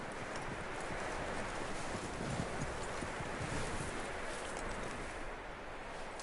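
Horse hooves clip-clopping in Red Dead Redemption 2, a steady, close stream of hoofbeats over outdoor wind and rustling, continuous and fairly loud throughout.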